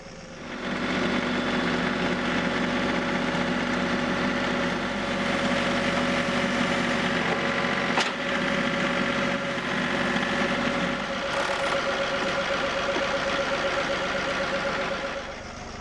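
A John Deere 3038E compact tractor idles steadily while a Curtis plow is attached, a continuous mid-pitched engine drone held at an even level throughout, with no voices over it.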